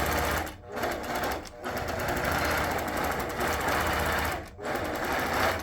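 An APQS longarm quilting machine stitches across a quilt with a loud, continuous close-up rattling hum that drops out briefly three times.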